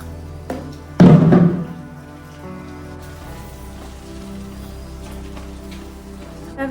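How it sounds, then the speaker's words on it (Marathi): Rain falling steadily on a surface, with a soft continuous patter and one heavy thump near the start. "असंच लागतं पाऊस"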